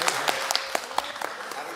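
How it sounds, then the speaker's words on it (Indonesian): Scattered applause in a hall where lawmakers have just heard a song performed, a loose patter of clapping with sharp individual claps standing out and faint voices underneath. "Tepuk tangan dulu untuk kita semua, Pak."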